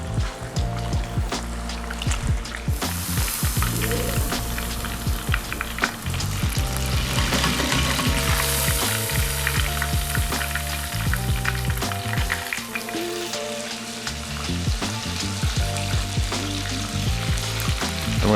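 Mayo-coated Hawaiian rolls hit a hot griddle beside frying fish, producing a loud, continuous sizzle with crackling pops and brief scraping sounds, close up and sustained without talk.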